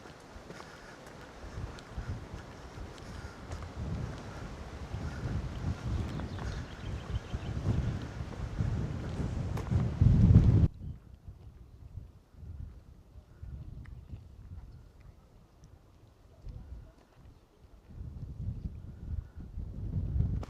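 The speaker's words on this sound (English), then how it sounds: "That wind's getting up again." Gusting wind on the Isle of Skye near the Quiraing, buffeting the microphone with a loud, rough roar for about ten seconds, then dropping to a quieter, fluctuating rush that swells again toward the end.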